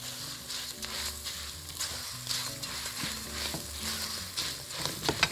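Garlic and cumin sizzle in hot oil in a pan, a continuous close frying hiss broken by rhythmic scraping and clinks of a spoon stirring, with no voices.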